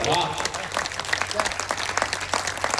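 Applause from an audience at a Hindi poetry gathering, a kavi sammelan, with steady dense clapping throughout and some voices mixed in.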